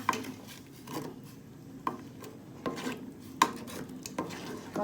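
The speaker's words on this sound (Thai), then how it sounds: "จะคนๆให้น้ำตาลปี๊บละลายนะคะ" A spoon stirs Thai sour curry with morning glory in a cooking pot to dissolve palm sugar, with soft scraping and occasional sharp clinks against the metal, close up and fairly quiet.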